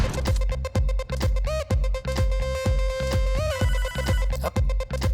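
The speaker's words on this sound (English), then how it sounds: "Oh. Phone call." An electronic phone ringtone in the game Hotline Miami plays over a steady thumping beat, its bright synthetic tones repeating in a rhythmic pattern.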